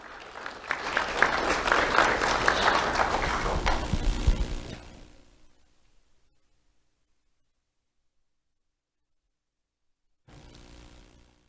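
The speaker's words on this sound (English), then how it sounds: "Let's have a round of applause for Juan Villalobos" An audience claps for a youth award recipient at a sheriff's office ceremony, a loud sustained round of many hands lasting about four seconds before fading out, followed by silence and then faint room noise.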